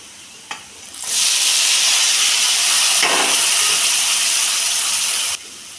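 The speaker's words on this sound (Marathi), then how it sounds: "आता आपण टमाटे टाकून घेऊ।" Tomatoes drop into a hot pan of fried onions and masala for tomato chutney, setting off a loud, steady sizzle that holds for several seconds before cutting off abruptly, with no talking over it.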